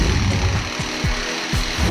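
A lyrebird, an Australian bird, mimics a chainsaw with a steady buzzing, engine-like drone and a few sharp revving pulses, close and fairly loud throughout with no talking.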